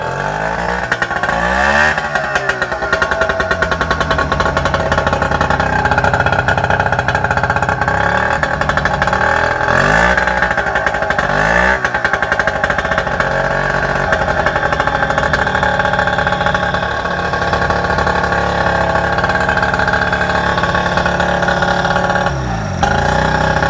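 A Yamaha 9.9 two-stroke outboard engine runs loudly and close after a carburettor clean, a buzzing, raspy drone that revs up and down several times before briefly cutting out near the end.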